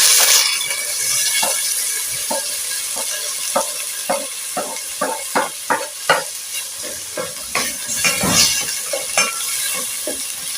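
Tomatoes sizzle in a hot pan while being stirred, a steady frying hiss broken by repeated scraping and clinking stirring strokes, close and loud.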